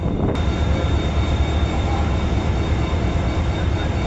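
A Shah Hussain Express train with an AGE30 locomotive at a station, near Lahore: a loud, unbroken low rumble and drone holds throughout, with a brief click near the start and a thin steady whine above.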